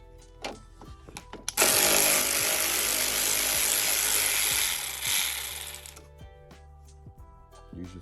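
A ratchet backs screws out of a 2022-or-later Genesis G70 during a cold air snorkel install, a long fast run of loud clicking after a few short turns, then quieter pauses and scattered clicks.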